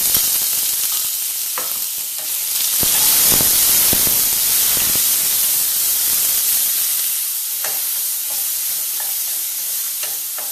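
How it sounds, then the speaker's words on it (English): Seasoned shrimp fry in hot vegetable oil in a pan, a loud, continuous bright sizzle and crackle close by with scattered spits and pops, no voices over it. "My pan is nice and hot now, so all I'm going to do is toss in that vegetable oil in there."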